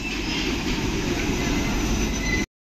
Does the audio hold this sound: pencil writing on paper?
no